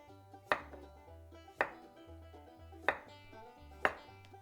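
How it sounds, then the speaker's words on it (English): A knife slicing a vegetable into thin one-eighth inch slices on a cutting board, four separate crisp chops spaced about a second apart, quiet and close, with a faint low hum underneath. "I'm going to slice this up into 1/8 inch slices"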